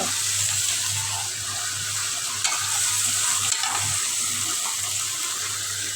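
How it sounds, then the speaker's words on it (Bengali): Radish and cauliflower stirred into spice masala in a hot pan, a steady close sizzle of frying with scraping stir strokes throughout, no voices. "মশলাটা ভালোভাবে কষাই নিলাম এখন সবজিগুলো দিয়ে দেব মূলা ফুলকপি"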